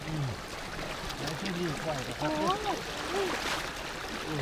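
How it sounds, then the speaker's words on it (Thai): Water flows along a stream or channel in rural countryside with a soft, continuous rushing wash, and someone talks over it. "น้ำไหลมาทางนี้ครับ"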